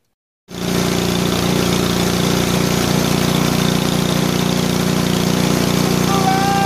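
A repaired snowblower engine, its carburetor just fixed, fires up and settles into a steady, loud idle that runs on without a break after a brief silence at the start.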